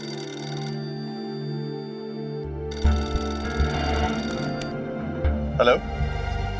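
A telephone rings in a home in a Hindi television drama, with several ring bursts at first. Music and other sounds then come in under it.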